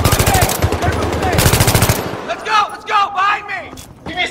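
Rapid automatic gunfire rattles in bursts in Battlefield 3, loud and close for a couple of seconds, before giving way to a voice talking over the quieter game background.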